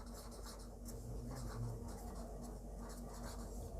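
Pen or pencil scratching on paper while notes are taken during a classroom lecture, a soft continuous scribbling texture with steady hum in the room.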